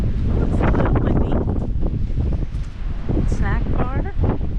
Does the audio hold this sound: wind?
yes